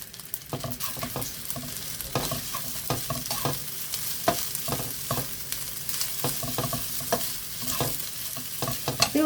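Egg fried rice with spring onions is stir-fried in a sizzling pan, with a constant hiss under repeated scraping and tossing strokes of a spatula in an uneven rhythm, up close and without talk.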